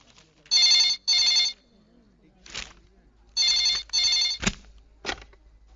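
A telephone rings in two double bursts of electronic trilling with a pause between them, a brief voice and a few short clicks falling in the gaps.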